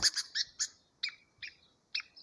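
A masked water tyrant chick gives a series of sharp, high chirps, about eight short calls in uneven spacing, close and fairly faint against a quiet background.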